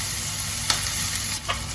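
Onions sizzle steadily in a pan for soup, a constant close hiss with a couple of brief stirring scrapes partway through.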